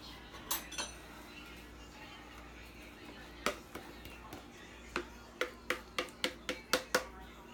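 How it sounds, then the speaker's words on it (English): A spoon clinks repeatedly against a glass container while scraping out ingredients, a few scattered taps early, then a quick run of sharp, evenly spaced clinks in a quiet room. "get a spoon to just get everything out."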